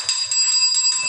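A small bell rings bright and clear in rapid repeated strikes, its tones sustained and close, with no talking.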